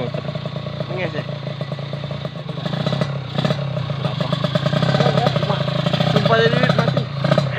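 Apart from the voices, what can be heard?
Kawasaki Ninja RR motorcycle engine revving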